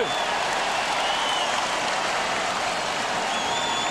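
Dense, steady roar of a Conseco Fieldhouse basketball crowd during free throws at the 2000 NBA Finals Game 3, loud and continuous with hiss-like applause and jeering filling the arena, no pauses.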